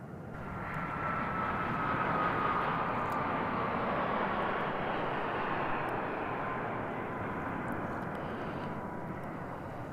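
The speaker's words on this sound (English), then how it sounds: "That's the United coming down the runway." United airliner landing on the runway at Reno airport, a loud, sustained jet roar heard from a distance that holds steady and slowly fades.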